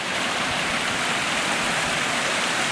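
Small waterfalls tumbling through a mountain stream gorge on the way up Goatfell, a loud, dense, steady rush of water filling the whole moment with no voices.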